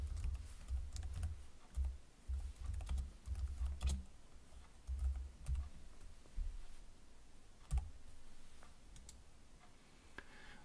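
Irregular bursts of typing on a computer keyboard, with quick clusters of key clicks separated by short pauses, recorded close and fairly quiet while text in a chart title box is being edited.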